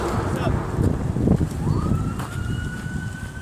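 A fire department siren rises and then holds a steady wail in the distance, over loud wind buffeting and rumbling traffic noise on a Phoenix street, with voices murmuring underneath.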